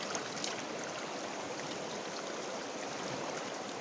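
The Kali (Sharda) river flows along the India–Nepal border as a steady, full rushing roar of water, close and constant throughout without breaks or voices.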